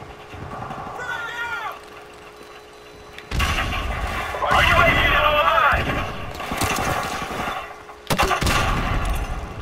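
Sharp, loud gunshots ring out in Call of Duty Modern Warfare Remastered with mechanical clatter between them, while a voice talks over parts of the scene.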